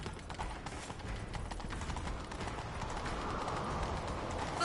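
Rapid hoofbeats of a galloping horse pound continuously at a steady, driving rhythm, with a faint whoosh of motion behind them and no talking.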